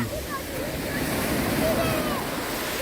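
Sea waves wash steadily onto a shore in a broad, rushing surf, with faint voices of people murmuring in the background.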